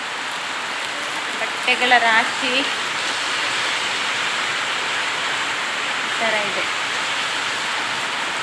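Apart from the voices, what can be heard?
heavy rain pouring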